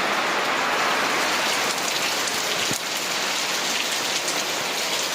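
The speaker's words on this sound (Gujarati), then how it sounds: "ફૂલો ફૂલ વરસાદ ચાલુ થઈ ગયો" Heavy rain pours down steadily, a dense, loud hiss of drops drumming on surfaces close by, unbroken throughout.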